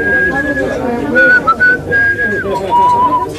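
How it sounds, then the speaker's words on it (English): A postman whistles a song, with clear, sustained whistled notes that glide and bend in pitch over faint background murmur. "I'm the Whistling Postman"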